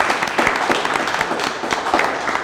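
An audience applauds a guest speaker at a labor-rights talk, with a steady patter of many hands clapping at moderate volume and no voice over it.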